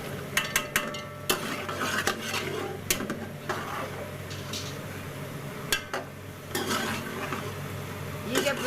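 Four medium onions fry in about four spoons of oil for mutton yakhni pulao: a steady close sizzle with a spoon stirring, scraping and clinking against the pan at irregular moments.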